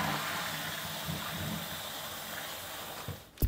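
A toilet flushes with a steady rushing gush of water from nearby that holds for a few seconds, then ends in a short sharp knock.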